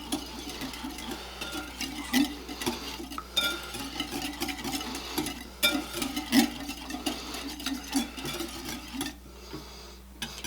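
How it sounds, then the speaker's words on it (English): A whisk beats rapidly against a bowl, mixing 2 teaspoons of salt into a marinade for Nashville hot chicken, giving a steady, close, busy clatter of quick strokes that runs continuously. "we're just going to whisk this together here"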